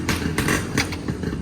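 Motorcycle engines, a Kawasaki Brutus among them, run at a gathering in Binangonan, with uneven throttle blips rising over a continuous low engine drone.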